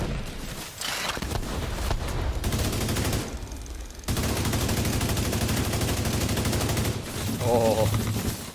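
Heavy gunfire in the video game The Division, dense continuous bursts of automatic fire close and loud with short gaps, and game voice and player chatter faintly in the mix.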